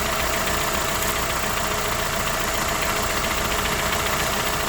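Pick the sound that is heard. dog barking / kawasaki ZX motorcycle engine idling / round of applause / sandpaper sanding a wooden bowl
kawasaki ZX motorcycle engine idling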